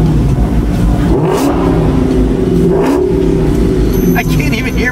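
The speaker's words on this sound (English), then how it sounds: "There's so many loud racers here." Race cars rev loudly and continuously nearby, engines roaring and surging in waves with swelling accelerations over a constant mechanical drone, while people talk underneath.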